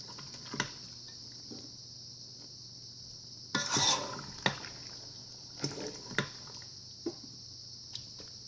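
Mac and cheese with apple chicken sausage is stirred in a Ninja Foodi pot, scattered scrapes and clinks of a utensil against the pot, one longer scraping pass in the middle, quiet and nearby.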